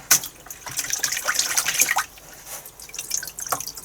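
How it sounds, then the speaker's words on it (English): Water rinsing a dyed hare's mask fur for fly tying, faint irregular splashing and dripping in short bursts close by, with no talk. "what we're going to do now is just give it a thorough rinsing"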